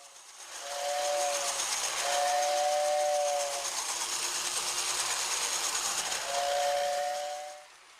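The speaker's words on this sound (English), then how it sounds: "You press a button and bingo! You hear a two-tone, mournful whistling sound." Lionel toy train steam whistle sounds a two-tone, mournful blast three times over a steady airy hiss, the blasts sustained and separated by short gaps before the hiss fades out.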